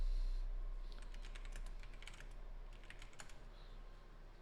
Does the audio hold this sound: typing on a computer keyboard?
yes